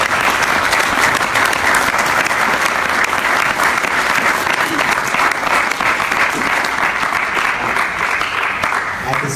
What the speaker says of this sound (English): I invite you to join me in applauding.